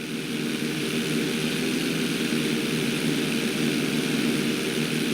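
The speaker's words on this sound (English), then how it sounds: "Always make sure your plane is straightened out before you attempt an inside loop." Propeller airplane engine in Grand Theft Auto V drones steadily and loudly throughout an inside loop, a constant close engine roar with no voices.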